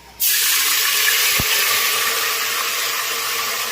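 A steady, loud rush of ginger water being poured begins suddenly and continues evenly throughout, with no talking.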